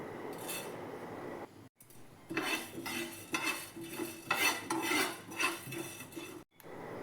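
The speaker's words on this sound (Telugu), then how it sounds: "1 టీ స్పూన్ మెంతులు, 1 టీ స్పూన్ ఆవాలు, 1 టీ స్పూన్ జీలకర్ర వేసి బాగా వేయించాలి" Fenugreek, mustard and cumin seeds roasting in a dry pan, stirred with a spoon in repeated scraping, rattling strokes, close and moderately loud with short pauses and no voices.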